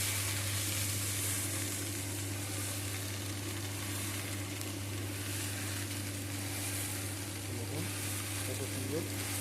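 Rice puffs roasting in a fryums roaster machine, a dense steady sizzle and rattle over a low mechanical hum from the running machine, with a voice talking over it.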